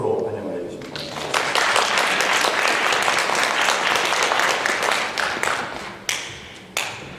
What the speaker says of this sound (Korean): 박수로 환영을 해주십니다